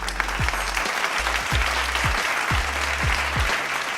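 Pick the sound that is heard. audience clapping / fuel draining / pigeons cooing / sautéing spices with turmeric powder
audience clapping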